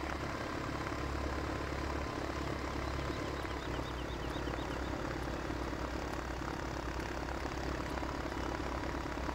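A 600 hp MB Trac tractor in Farming Simulator 2015 revs up with a steady, droning engine roar that holds at a constant loud level throughout, with no talking.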